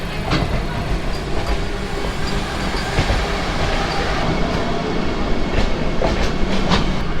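A Vande Bharat express passenger train rolls steadily past at close range, with a constant rumbling roar and rhythmic wheel clicks over the rails throughout.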